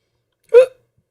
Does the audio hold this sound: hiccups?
yes